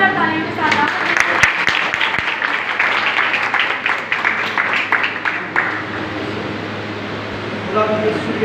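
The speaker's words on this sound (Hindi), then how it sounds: "खुदा के खादम को आप सबकी जोरदार तालियों के साथ" A church congregation at a Friday evening Christian service in Pakistan claps together. Sharp individual claps stand out over a busier crowd texture, with voices mixed in. The clapping thins out gradually toward the end.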